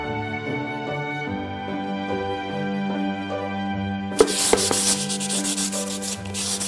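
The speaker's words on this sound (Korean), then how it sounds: "백골 바탕에 사포질을 해 턱이 지거나 거친 부분을 고르게 하고" Sandpaper smooths a wooden base for Korean mother-of-pearl lacquerware. Steady, close scratchy rubbing strokes start partway through over a tonal musical background.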